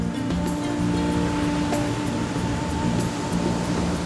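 Ocean surf breaks on the beach at Umdloti, South Africa, a continuous loud wash of waves with no pauses, heard alone across the whole stretch.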